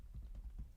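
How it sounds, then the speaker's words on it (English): A few soft keystrokes on a computer keyboard, quick and faint, tapped in a short run. "So I'm just going to type in the code for that"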